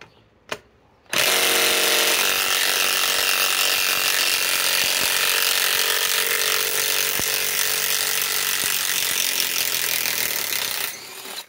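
A DeWalt XR DCF891 impact wrench on speed 3 in reverse backs out 10-inch lag bolts, a loud continuous hammering rattle running for about ten seconds after a couple of short bursts, close and without talk.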